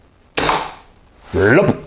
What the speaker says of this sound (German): Und dann noch einen Schuss in die Gelatine.